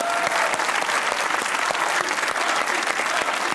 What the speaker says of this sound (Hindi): ताली बजाओ मेरे लिए यार।